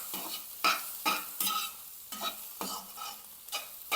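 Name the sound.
scrambled egg frying in pan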